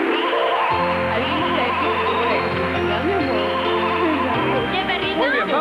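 A goat gives loud, wavering bleats close by, running almost continuously with warbling pitch throughout.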